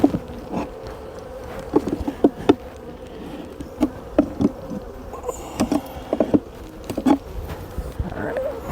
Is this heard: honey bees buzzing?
yes